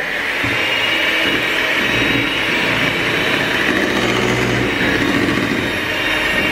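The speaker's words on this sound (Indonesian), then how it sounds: "Lalu kita kembali mixer sebentar agar tercampur merata dengan kecepatan rendah aja ya." Electric mixer running steadily at low speed through pukis cake batter, a continuous close motor whir with no pauses and no voices.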